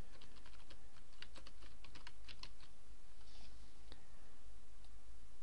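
A name being typed on a computer keyboard: a quick burst of close, crisp key clicks in uneven rhythm, thinning out to a few isolated taps, with no talking.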